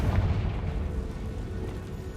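A Confringo fire spell blasting in the Hogwarts Legacy video game, a heavy low boom that swells at the start and rumbles on as a dense, roaring tail throughout, loud and with no voices.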